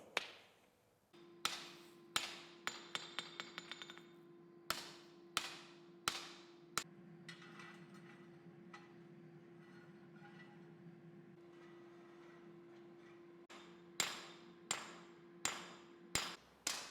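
A hammer strikes a steel sword blade as it is forged to shape the bevel, sharp ringing blows coming in quick bursts and scattered single hits over a steady low hum.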